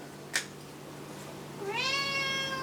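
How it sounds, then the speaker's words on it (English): A pet cat at home gives a single clear, drawn-out meow that rises and then falls, following a brief tap, with quiet room noise and no talk. "There's our cat helping."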